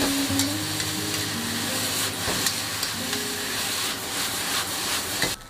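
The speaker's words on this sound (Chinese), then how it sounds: "随便翻炒几下就可以出锅了" Shredded potatoes and scallions are stir-fried in a hot pan with salt, soy sauce and vinegar, giving a loud, steady sizzle with intermittent scraping tosses of the spatula and no talk.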